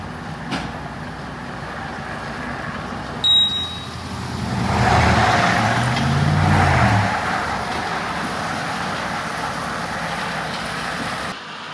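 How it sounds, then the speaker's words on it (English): A Brandt truck moves railway ballast cars along the track during yard switch replacement, its engine a low steady rumble that swells and fades mid-way, with a brief mechanical hiss near the start. "The cars are moved by what is known as a Brandt truck."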